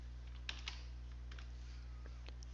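Keystrokes on a computer keyboard while entering a parameter in road design software, a few faint separate clicks over a steady low electrical hum.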